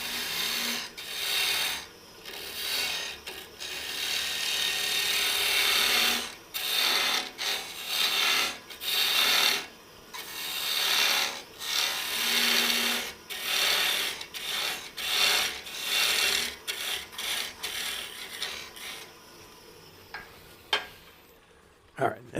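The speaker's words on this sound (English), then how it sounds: "before I start sanding" Steady abrasive sanding against wood spinning on a lathe, a corzetti pasta cutter, a harsh hiss broken into repeated passes with brief pauses, fairly close and loud.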